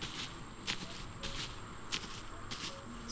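Footsteps on grass in the video game My Summer Car at night, soft rustling steps in a steady walking rhythm, close and quiet over a constant background of chirping insects.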